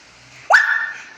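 A single short, sharp bark voiced by a person imitating a dog, rising and then holding briefly, loud and close in a quiet room.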